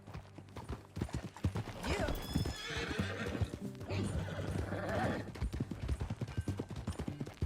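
Horse hooves clip-clopping in the Red Dead Redemption 2 video game, a steady rhythm of close hoofbeats with a horse whinnying and snorting, along with other game sounds and a brief spoken word.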